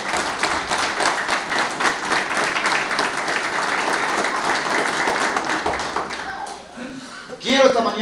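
Strong crowd applause at a political rally in Cajabamba, dense rapid clapping that fades out near the end before a voice begins speaking.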